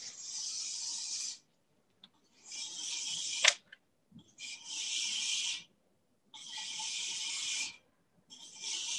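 A steel chisel's back is rubbed flat on 220-grit sandpaper, giving five close, loud, rasping strokes of about a second each, separated by short pauses.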